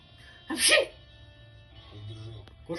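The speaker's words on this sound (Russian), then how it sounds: "Мы расчихались что-то тут, пыльно просто." A single person sneezes once, a short loud burst in a dusty room, followed by quiet murmuring and faint background noise.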